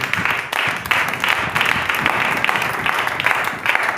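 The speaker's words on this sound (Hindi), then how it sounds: "क्या आप ताली दे सकते हैं?" Congregation at a church sermon applauds on request, a sustained crowd clapping with a dense, even texture for several seconds, fairly close and loud with no speech over it.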